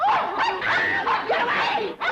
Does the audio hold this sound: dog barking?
yes